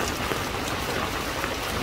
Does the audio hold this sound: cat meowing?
no